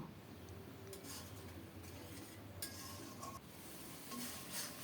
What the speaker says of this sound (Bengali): মশলাটাকে নেড়ে চেড়ে খুব সুন্দর করে কষিয়ে নেব